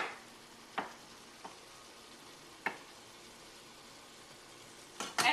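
A reduced tomato sauce simmers and sizzles softly in a pan as butter is added, with a low steady hiss and a few sharp clicks and knocks of utensils.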